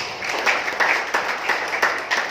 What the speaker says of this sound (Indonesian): Tepuk tangan berdua.